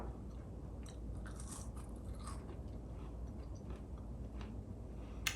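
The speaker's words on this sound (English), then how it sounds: "Oh, they're crunchy." Crunchy chewing of Kirkland NY loin carnivore chips from Costco, faint close-up bites and crackly crunches scattered over several seconds against a quiet background, with no speech.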